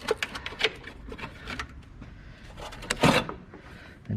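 A 14mm nut spun on by hand during a front strut replacement on a 2007 Toyota Sienna, faint quick metallic clicks and light rattles in short irregular bursts, close by.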